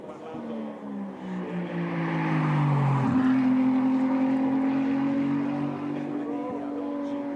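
A Ferrari 296 Challenge race car engine screams past, its pitch falling as it downshifts, then climbing again in a sustained high-revving wail.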